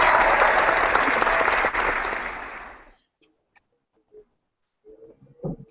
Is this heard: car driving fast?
no